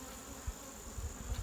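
Agitated honeybees buzz in a steady, faint drone around a beekeeper during a hive inspection, with a few low thumps of handling close by and no talk.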